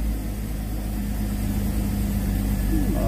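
Jeep XJ engine idling close by after starting, a steady low rumbling drone with constant loudness and a faint higher tone entering near the end.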